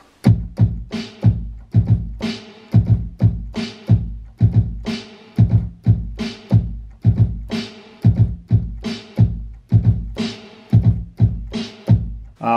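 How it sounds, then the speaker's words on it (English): A steady, punchy drum beat with a deep vinyl-sampled kick and a crisp vinyl-sampled snare alternating in a regular groove for a retro sound, loud and close, with no voices. "You already know I couldn't go without the vinyl snare and the vinyl kick"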